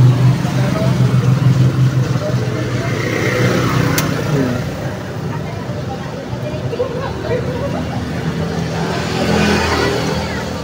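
A car goes by on a rainy street, a loud engine rumble that swells and fades while people chatter and talk close by.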